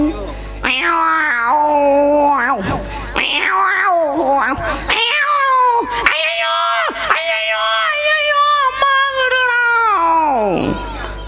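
A performer in a Tamil village stage drama mimics cats caterwauling, giving loud, drawn-out yowls that rise and fall in pitch, one after another with brief breaks, close and alone.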